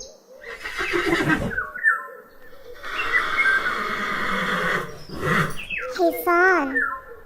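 A horse neighs and whinnies, with long bright calls and a trembling, wavering whinny near the end, loud and close.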